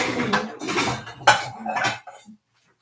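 A saucepan and pots are handled in a kitchen during a home chemistry setup, giving a few close metallic clanks and scrapes, one sharp knock, before the sound cuts to silence.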